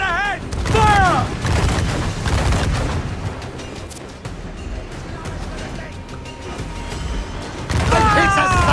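Pirate ship cannons firing in Assassin's Creed Black Flag, heavy broadside booms near the start and end, with crew voices shouting orders over the rumbling naval battle.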